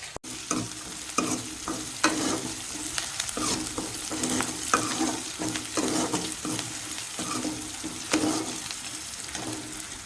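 Onions fry in a pan for chicken gravy, a dense continuous sizzle close by with frequent scraping stirs throughout.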